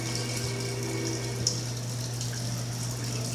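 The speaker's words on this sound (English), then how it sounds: "I get the water running" A sink tap runs steadily in an old cabin, giving a close, even stream of water with a low hum beneath it and no talking.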